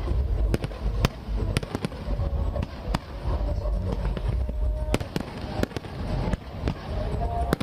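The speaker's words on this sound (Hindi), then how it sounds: "इन पटाखों की आवाज को सुनकर" Diwali fireworks and firecrackers go off over Ayodhya, sharp loud bangs and crackles bursting irregularly, some close and some distant, over a rumbling crowd background.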